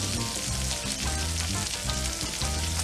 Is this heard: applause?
no